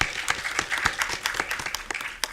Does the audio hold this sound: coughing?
no